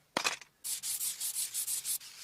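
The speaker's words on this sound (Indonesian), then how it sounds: "Kemudian diamplas menggunakan amplas merah agar mengkilap" Metal being sanded by hand with red sandpaper to a shine: one brief scrape, then a run of about seven rhythmic back-and-forth rubbing strokes, close and clear with no talk.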